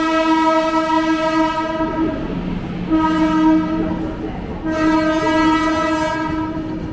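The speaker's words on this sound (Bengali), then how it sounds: "এই যে এক্সপ্রেস ট্রেনটা যাচ্ছে এটা হচ্ছে মুম্বাই মেল।" Mumbai Mail express train passing Belur station near Howrah, its horn blaring in long sustained blasts over rolling wheel rumble, loud and close.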